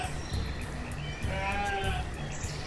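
Sheep bleat in the farming game Banished, several wavering calls rising over a steady ambient game background, moderately close and with no talk over them.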